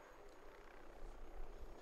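A distant helicopter drones steadily with a low rotor rumble in Ghost Recon Wildlands, faint and continuous, swelling slightly toward the end.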